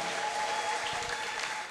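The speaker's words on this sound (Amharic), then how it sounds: "ሄለልታ ጭብጨባ ለጌታ" A church congregation claps together in a dense, even burst of applause lasting under two seconds, with no voices.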